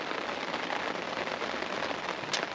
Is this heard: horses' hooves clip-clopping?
no